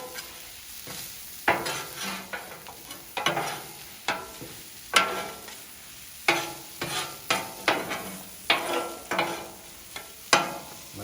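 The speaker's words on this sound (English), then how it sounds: "Gonna throw in a little bit more butter. I'm just gonna mix all this together." Fried rice with butter being stirred on a Blackstone griddle, repeated metal spatula scrapes and clanks in an irregular rhythm over a steady sizzle, close and clear.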